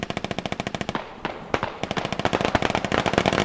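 Rapid automatic gunfire in the military shooter Squad, with long bursts of sharp, evenly spaced shots close by, a brief pause, then scattered and renewed bursts.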